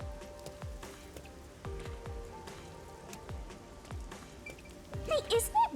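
Steady rain falling in the rainy streets of the video game Rain Code, a constant patter with scattered drips and footsteps, under a bit of game chatter and brief electronic tones near the end.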